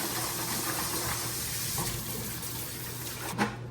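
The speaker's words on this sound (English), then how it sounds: "Rinse these vegetables off." Vegetables are rinsed under a running kitchen tap, giving a steady close wash of water with a brief splashy surge near the end and a low hum underneath.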